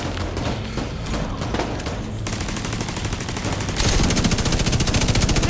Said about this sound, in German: Und belegen den Kollegen mit Dauerfeuer